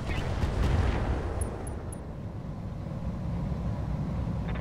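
Mech weapons fire during a Roguetech battle, a dense rumbling volley of cannon and missile blasts with a heavy opening burst that trails into steady low roar and crackle.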